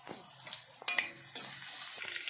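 Chopped onions and green chillies fry in a hot pan with a soft, steady sizzle and a couple of brief sharper crackles, fairly quiet and close.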